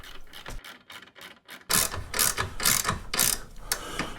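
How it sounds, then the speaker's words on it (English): A hand wrench ratchets bolts on a motorcycle centre stand, first in soft sparse clicks and then in louder, rapid ratcheting strokes close by. "Just nice and gentle with a hand wrench."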